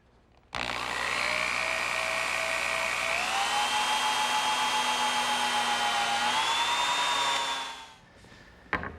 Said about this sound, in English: the first thing that I'm going to do is drill a hole for the pivot point